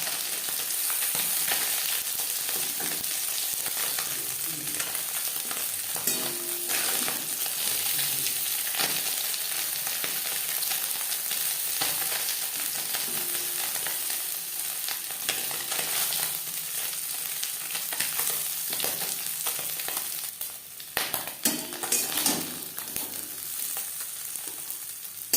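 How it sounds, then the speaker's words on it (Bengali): Small puti fish fry in hot oil in a pan, a close, continuous sizzle that crackles steadily throughout, with a brief burst of louder clatter and spitting toward the end and no talk. "একটা সাইড ভাজা হয়ে গেলে অপর সাইডটা উল্টে দেবো"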